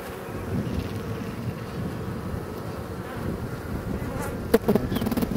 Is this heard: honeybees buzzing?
yes